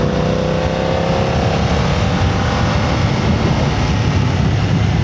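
A 2025 BMW F900R motorcycle accelerates through a corner, its engine a loud, close, continuous roar with rising pitch and heavy wind rush throughout.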